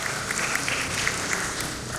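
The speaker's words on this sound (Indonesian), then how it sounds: "Tepuk tangan dulu" Applause from the audience at a Betawi pencak silat ceremony installing the PPS-Putra Betawi board, a steady hiss of many hands clapping at moderate distance throughout, with no talk over it.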